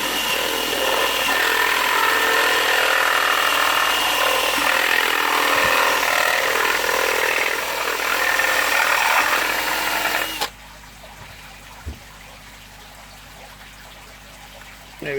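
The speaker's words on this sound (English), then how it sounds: "you just got to drill that hole through like that." A step drill bit grinds steadily through material while drilling a hole for a mini aquarium build, then stops suddenly, leaving quiet with a couple of small knocks.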